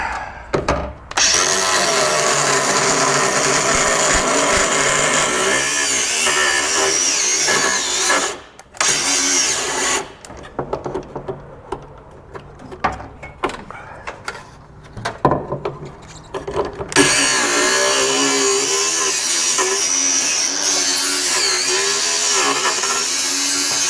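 Power tool grinding and cutting through the hood hinges of a flood-damaged 2013 Dodge Dart, loud and close, running steadily with a few brief pauses and a quieter, choppier stretch in the middle.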